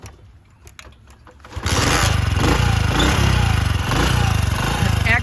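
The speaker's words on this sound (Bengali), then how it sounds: "আমি নিজে স্টার্ট দিয়ে দেখাইতেছি বাইকটির সাউন্ড কোয়ালিটি কেমন আছে" A used Honda CD 80 motorcycle starts after a quiet stretch with faint clicks, then its small engine settles into a loud, steady, close putt-putt idle.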